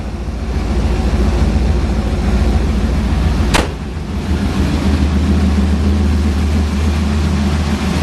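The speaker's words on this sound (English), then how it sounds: "See that whine? I love that, man. It's like the blower sound." Supercharger blower whine from a 1965 Chevrolet Nova engine, a steady loud mechanical drone with a deep rumble underneath, heard up close, with a brief sharp click midway and a lower engine tone swelling near the end.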